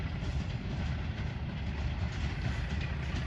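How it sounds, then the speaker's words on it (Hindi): A PHA-20 diesel locomotive accelerates while hauling a passenger express in Pakistan, producing a constant low rumble of rolling stock and engine with rail clatter, heard fairly faint and steady with no voices. "अब एक्सीलरेट कर रहा है PHA-20, चगिंग सुनाई दे रही है शानदार,"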